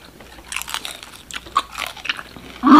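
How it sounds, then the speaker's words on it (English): Crunchy bites into a fried birria taco dipped in consommé with lime, a series of crisp crackling crunches close to the microphone, with no talk. "I don't know if y'all can hear that crunch, but there's a crunch to this."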